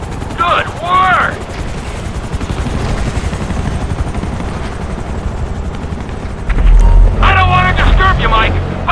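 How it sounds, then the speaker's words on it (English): Attack helicopters in Grand Theft Auto 5 keep up a continuous rotor thrum with booming blasts and bursts of gunfire, loud throughout, as game characters speak over it at the start and end. "Think about the choppers before we're blown out of the sky."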